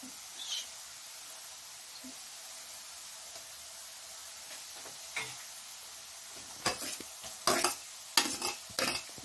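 Green chillies hit potatoes frying in a pan for aloo poha and are stirred in, a steady low sizzle broken toward the end by several sharp scraping clatters of the spoon against the pan.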